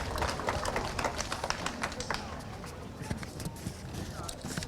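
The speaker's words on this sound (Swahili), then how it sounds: "Makofi kwa Mheshimiwa Rais Samia Suluhu Hassan." An audience at a Tanzanian public event applauds President Samia Suluhu Hassan, with brisk, busy clapping that runs throughout alongside a voice.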